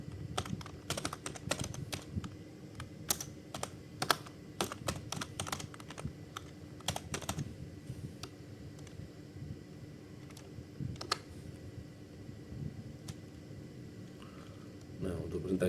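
Someone types an ipconfig command on a computer keyboard: bursts of quick, close key clicks, busiest early, then sparser taps over a faint fan hum.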